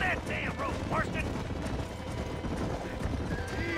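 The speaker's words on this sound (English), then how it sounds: "We got a horse." Horse hooves clip-clop steadily while a horse neighs in shrill, wavering calls near the start, in Red Dead Redemption gameplay, with background game noise and occasional talk beneath.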